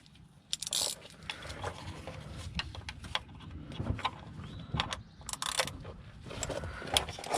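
A ratchet with a deep socket working a transmission bolt loose, quiet metallic clicks, taps and small clinks at close range, scattered irregularly over low background noise.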